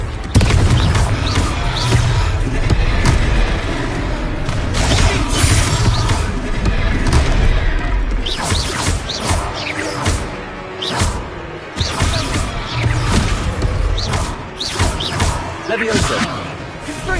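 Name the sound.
Confringo explosive spell blast, Hogwarts Legacy video game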